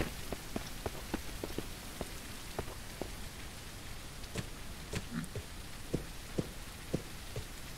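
Steady rain pattering in the survival game Mist Survival, a dense even hiss broken by scattered sharp drop ticks and louder splashes, with no voices.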